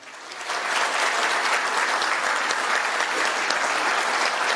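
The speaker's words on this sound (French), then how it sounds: "sous vos applaudissements" Steady, dense applause from a press conference audience swells in the first half second, then holds at an even, loud level throughout, with no voices above it.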